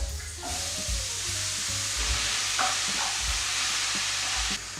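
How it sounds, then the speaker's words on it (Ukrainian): Steady loud sizzling of apples frying in butter in a pan, continuous and close, with faint low clatter underneath, cutting off abruptly near the end. "Яблука легко обсмажую, тільки щоб обмякли."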